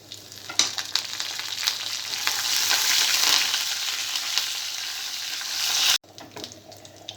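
Mustard and cumin tempering seeds, dried red chillies and curry leaves frying in hot oil in a pan, a steady loud crackling sizzle that swells midway and drops abruptly near the end to a quieter hiss.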